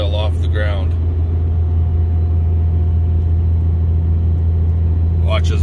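A vehicle drives across a farm in strong wind, a loud, steady low rumble droning throughout with wind buffeting, while someone talks briefly at the start and end.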